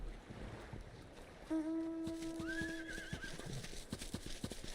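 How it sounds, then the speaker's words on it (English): Horse mount in the video game Final Fantasy XIV, a clear whinny with a rising, wavering pitch over faint hoof clops and game ambience, with sparse clicking under it. "I got the horsey."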